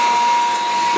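An unused Rockford 24-inch hydraulic shaper runs its cross feed with a loud, steady whirring hum and a constant pitched tone lasting the whole brief moment.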